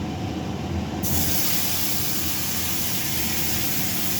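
Bay leaves dropped into hot oil in a cooking pan, where potatoes were fried earlier, splutter and hiss loudly and steadily throughout, with a brighter crackling burst starting about a second in.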